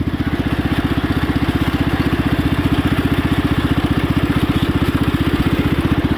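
A restored Cub Cadet pulling tractor engine running at a steady idle, a loud, even, rapid thumping pulse that carries on unbroken and close by.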